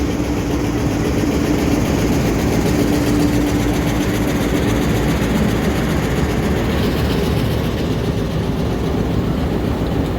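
The Jaffar Express passenger train departs Sibi Junction, Pakistan, rumbling and rolling steadily along the tracks, loud and close, with a continuous engine drone and faint rhythmic clatter.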